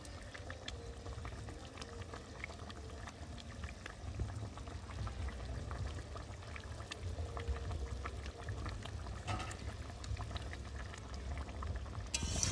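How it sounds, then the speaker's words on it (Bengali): Pabda fish curry gravy with coriander leaves simmering in a pan: a soft, continuous bubbling boil, faint and steady throughout, with no voices. "ঝোলটাকে ফুটিয়ে নেব"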